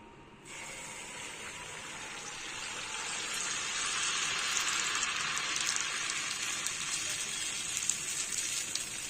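Sweet Chettinad jaggery paniyaram batter sizzles in hot oil, a bright steady frying hiss that swells after a short quiet start and keeps crackling close by without any talk.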